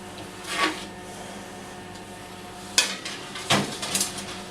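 Metal meringue trays clatter and scrape as they go onto oven racks, a few distinct clanks and slides against a faint background hum, with no talking.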